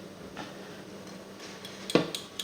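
A frying pan handled while cooking apple blood sausage: a few faint metallic clinks and scrapes, then one sharp clank near the end followed by lighter taps.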